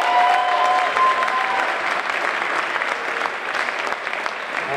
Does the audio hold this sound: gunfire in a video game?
no